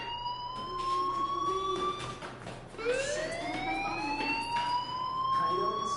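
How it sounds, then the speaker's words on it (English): A fire alarm in the Life Is Strange game sounds in repeated rising, siren-like whoops, loud and steady over a background rumble. "do you hear that fire alarm? That means you should be outside."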